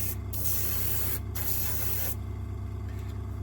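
A close, steady hiss of an airbrush spraying paint on a model railway piece, sputtering unevenly after weeks unused, with brief breaks over a constant low mechanical hum, then the hiss cuts out leaving only the hum.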